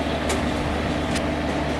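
An Indian passenger train drawn by a WAP7 electric locomotive in Trainz Simulator rolls to a stop at a station, heard as a loud, steady low rumble with two brief hissing bursts.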